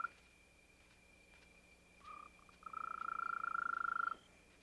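A mole cricket's pure, steady high trill rings out in a few bursts, the last long and loud, over a quiet background.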